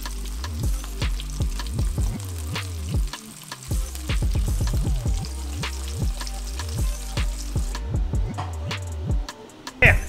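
Floured fish fillets frying in a pan, a steady crackling sizzle with bursts of popping spatter throughout, close and fairly loud.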